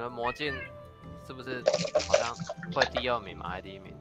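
A house cat meows a few times in the background at moderate level, mixed with keyboard clicks while several people chat over it.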